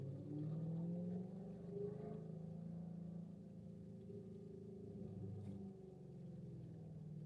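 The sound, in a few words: Camaro ZL1 engine driving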